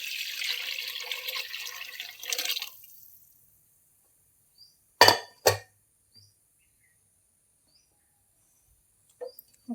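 Watery mashed dal is poured into a pot of charu for about three seconds, then quiet follows, broken by a couple of sharp knocks and faint later clinks.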